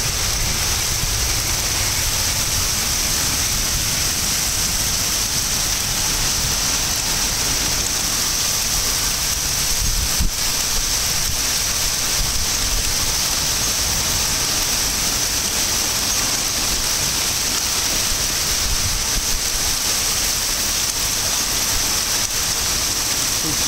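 Steady torrential rain with strong wind roars continuously with a broad hissing wash, constant and loud throughout, with a brief thump partway through.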